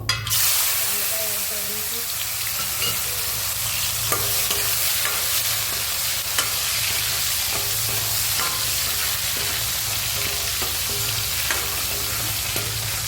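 Mustard seeds spluttering in hot oil as cloves and hing go in, a steady dense crackle with faint stirring clinks, close and continuous throughout.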